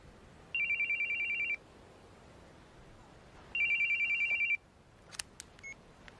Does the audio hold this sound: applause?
no